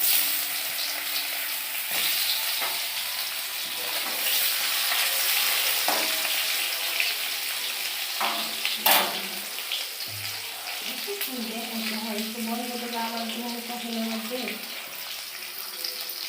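Potatoes frying in a pan over a gas flame still on high, with green chillies and tomato nearby, give a steady, loud broadband sizzle with occasional stirring scrapes; a faint voice murmurs toward the end.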